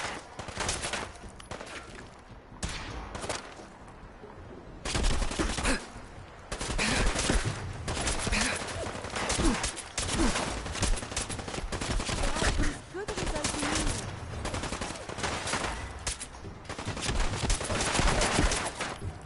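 Sustained gunfire, loud rapid bursts of shots that roll on almost continuously for many seconds, with short lulls and some background noise.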